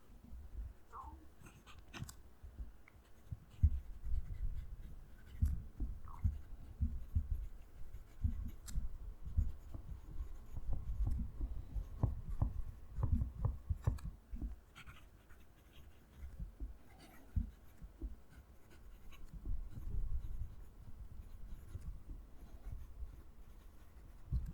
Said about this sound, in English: I will position the mic down near the paper so you can hear the pen writing